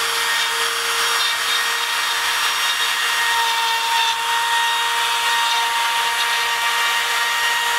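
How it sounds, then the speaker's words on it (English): A plugged-in router on a spiral cutting jig cuts flutes into a wooden turning with a loud, continuous high whine that holds steady the whole time. "So get the router plugged in, turn your router on."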